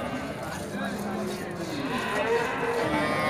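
A Sindhi breed cow moos at a busy cattle market in Pabna, a long, loud, drawn-out low call with crowd noise and people talking around it.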